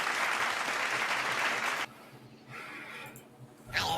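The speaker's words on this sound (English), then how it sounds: "give a nice round of applause for our first" A studio audience gives a round of applause to welcome a guest onto a show, dense clapping for about two seconds that then cuts away, leaving quieter room sound and a brief voice.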